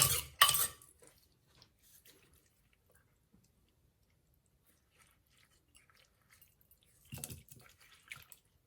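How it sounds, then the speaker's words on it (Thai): Shrimp green papaya salad is poured onto a plate, giving a wet, clattering burst at the start and another shorter one near the end, with near silence and faint ticks in between. "เดี๋ยวเทสจานก่อนจ้ะ เทสจานเทสจาน"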